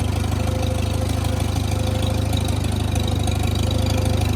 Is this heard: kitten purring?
no